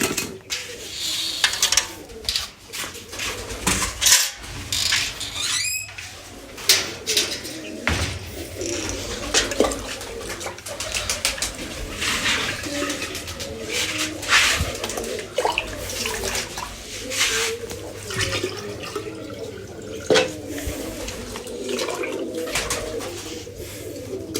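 Pigeons coo steadily in a loft while being given grain and water, the low, throaty calls repeating throughout alongside rustling, splashing and scattered clatter.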